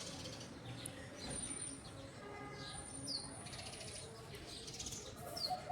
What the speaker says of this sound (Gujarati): ચકલીઓ ચીચી કરે કેવું અત્યારે થઈ ગયું છે વાતાવરણ